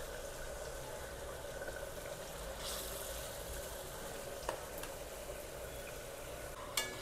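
Lentil bori dumplings frying in hot oil for a sweet ridge gourd shukto, a steady low sizzle and bubbling throughout with a couple of faint clicks, quiet and close.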